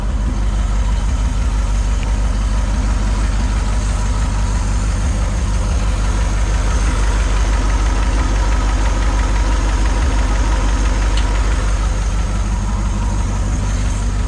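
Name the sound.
76-year-old Pontiac engine running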